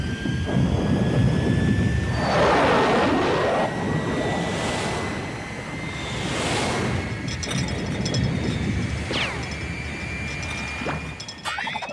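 Cartoon boy Gerald McBoing-Boing imitating airplane sounds with his voice, a loud roaring jet-like whoosh rising and falling in swells with a high whine, with clattering rattles near the end, no talking.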